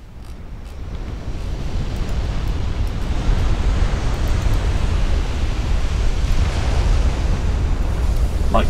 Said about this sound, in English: Like cruiser exploding everywhere.